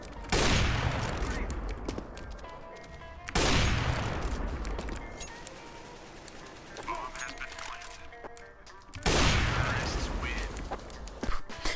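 Gunfire in the video game CS:GO on the Mirage map, three sharp loud shots each followed by a long ringing decay, with game ambience and faint sounds in between.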